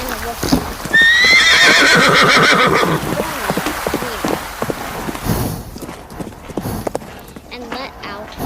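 A horse lets out a loud, close whinny early on, followed by a run of hoofbeats clip-clopping and scuffling, with voices mixed in among the movement.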